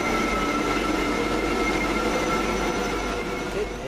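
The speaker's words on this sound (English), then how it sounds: "Here's our train out of here, the delayed" A train arriving at Glasgow High Street station rumbles steadily close by with a constant metallic hum and faint wheel squeal, filling the whole stretch with no voices.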